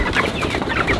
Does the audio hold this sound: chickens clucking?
yes